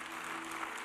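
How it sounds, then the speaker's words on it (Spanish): Church congregation clapping together, a steady dense wash of applause filling the space without a break, fairly quiet and with no voices standing out. "Denle un aplauso fuerte al Señor."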